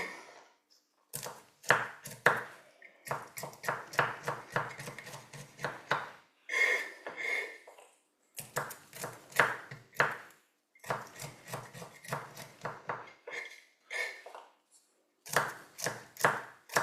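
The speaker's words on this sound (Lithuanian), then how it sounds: "Irgi smulkiai susipjaustome" A knife finely chopping food on a board: rapid, crisp taps in rhythmic bursts separated by short pauses, close and fairly quiet.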